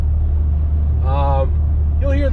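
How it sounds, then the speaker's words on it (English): Low, steady exhaust drone from a 2020 BMW X3 M Competition idling at low revs, a constant deep rumble with someone talking briefly over it. "You can hear the exhaust pretty decent from 1500 to 2000 RPMs in this car."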